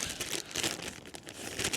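Crisp, uneven crinkling of a small plastic bag holding a Trangia camp stove burner, close up with bursts of rustling and no voices.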